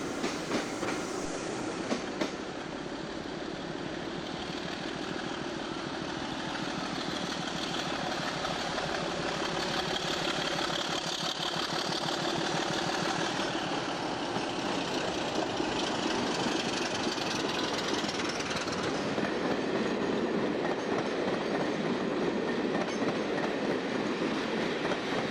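Diesel locomotive 27052 pulls away from Edinburgh Waverley for Dundee, a steady engine rumble mixed with rolling wheel clatter that holds at an even level throughout.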